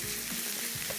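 Faham chicken sizzles on a grill with a steady, close crackle of fat and juices, alone with no voices.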